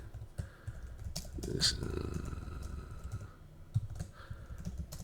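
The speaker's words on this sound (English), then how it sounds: "Okay, I'm just going to type anything here." Keys on a computer keyboard clatter in quick, uneven bursts of clicks close by, with brief pauses between runs of typing and no talking.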